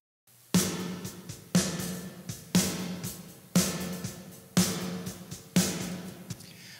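Snare drum processed with the Arturia Rev Plate 140 plate reverb plugin, struck six times at a steady one-second pace, each crack followed by a bright, swelling plate tail, played alone with no voices.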